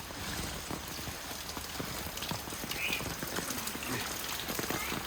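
Steady rain patters down continuously, a dense wash of drops on surfaces, with faint scattered taps throughout.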